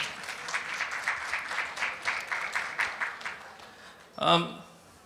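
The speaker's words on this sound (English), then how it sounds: "I think you all deserve a round of applause" A gala audience at the Indian American Medical Association of Illinois annual event applauds doctors and healthcare professionals in a steady round of clapping that tapers off, followed by a brief voice near the end.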